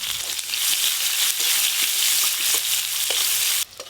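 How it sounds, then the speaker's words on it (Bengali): Black cumin seeds temper in hot oil for an eggplant and poppy-seed dish, a loud, dense crackling sizzle with stirring scrapes close by, cutting off abruptly near the end. "বেগুন রান্নার জন্য ফোড়নে আমি কালো জিরে দেব"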